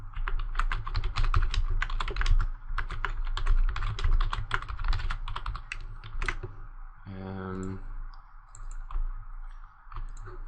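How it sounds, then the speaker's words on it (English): Rapid, steady typing on a computer keyboard, dense clicking keystrokes close up for most of the stretch, then easing off near the end as a brief tonal sound rises over the fading clicks. "type an example title"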